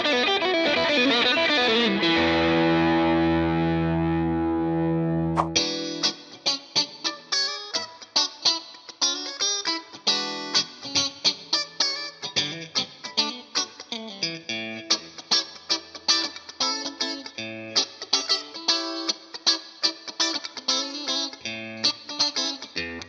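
A Stratocaster electric guitar through a plexi-style amp distortion simulation rings out a sustained chord, then plays a long run of picked, driven single notes and short phrases, loud and up front.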